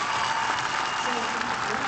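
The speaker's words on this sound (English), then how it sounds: "give them a big round of applause" A live audience breaks into steady, dense applause that fills the room evenly from start to finish, with a voice faintly audible under the clapping.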